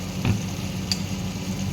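Garlic and ginger sizzle in hot ghee, a steady close frying crackle with a soft thump as they hit the pan and a brief clink of a utensil, with no voices.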